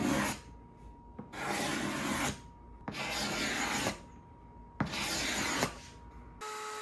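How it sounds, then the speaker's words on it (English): A steel card scraper is drawn across glued-up wood panels to take off dried glue and planer marks: four long, rasping strokes, each about a second, separated by short quiet pauses, close and fairly loud. "used a card scraper to clean off glue and planer marks from both panels."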